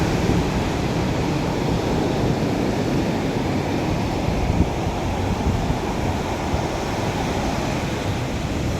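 Ocean waves at a seaside spot near a hotel wash in as a steady, dense roar of surf, blended with wind buffeting the microphone, with no voices.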